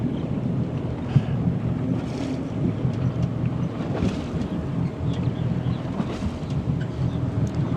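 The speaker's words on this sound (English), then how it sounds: "That engine sounds a little weird." A fishing boat's engine runs with a steady, low, slightly uneven drone. Wind buffets the microphone throughout, and faint water sounds can be heard alongside.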